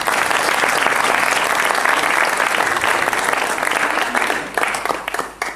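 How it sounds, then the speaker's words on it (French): Spectators at a regional billiards tournament final in Brittany break into loud, dense applause that holds steady for several seconds, then thins and tapers off near the end. "Merci d'applaudir"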